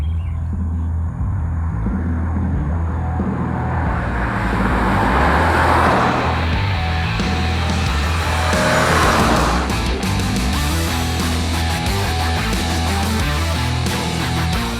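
The all-new Honda City sedan, driven hard, gives a close, loud engine drone with rising and falling sweeps as it accelerates, over a steady low rumble and road noise.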